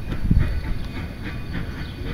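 A narrow gauge train switching at a station platform, with a clanking, rumbling rail sound, a heavy knock early on, and a steady low hiss and rumble that continue; no talking.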